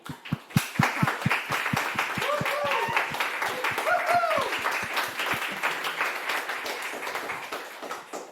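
An audience at an improv comedy show claps, first with a few evenly spaced, crisp claps and then in dense, sustained applause that slowly fades. Some voices rise briefly over the clapping.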